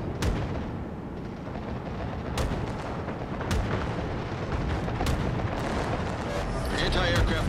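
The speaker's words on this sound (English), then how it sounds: "Come on, AA guns." Anti-aircraft guns firing in the naval combat game World of Warships, repeated sharp bursts and booms over a constant rumbling battle din, with a person talking over it.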